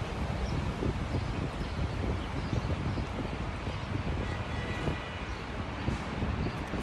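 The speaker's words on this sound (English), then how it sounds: "This fucking wind sucks, dude." Strong outdoor wind buffets the microphone in a steady, loud, rumbling roar that never lets up, with no voices over it.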